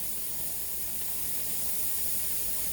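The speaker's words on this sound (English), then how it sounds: "This is your 10 minutes that it's got to steam." A Nesco digital pressure canner vents steam in a steady, even hiss that runs unbroken and close throughout.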